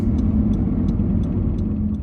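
Steady low rumble of a car driving along the road to a temple for Khmer New Year celebrations in Jacksonville, Florida, a continuous interior engine and road drone with faint periodic ticking and no talking.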